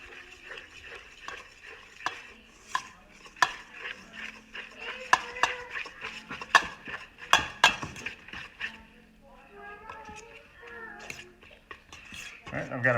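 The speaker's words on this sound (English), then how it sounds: "with a little bit of a stiffer whisk, I'm just going to start to gently mix" A stiff whisk mixes wet ingredients into about a cup of flour for pancake batter, clattering and scraping against the bowl in quick irregular strokes, with a voice speaking in between.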